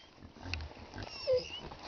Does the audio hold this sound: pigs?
yes